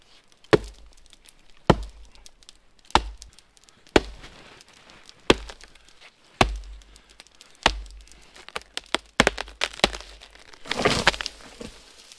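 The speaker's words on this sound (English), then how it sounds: "So my solution is to cut down this big tree." An axe strikes a big tree in the snowy Newfoundland bush: about ten sharp, evenly spaced chops ring out with quiet gaps between them, then a crackling, rustling burst at the end.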